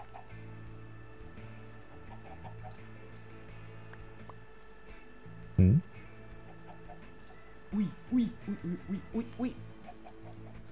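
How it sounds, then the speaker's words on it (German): Minecraft chickens in a modded Feed The Beast world cluck in a short burst mid-clip and then a rapid run of several clucks, over quiet game ambience, with a brief voice interjection. "irgendwie folgen mir die Hühner irgendwie nicht richtig"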